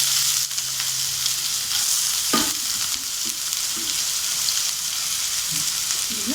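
Onions dropped into hot oil already frying with cumin in a home kitchen pan, giving a steady moderate sizzle with a brief thump as they land and light stirring scrapes, no talking.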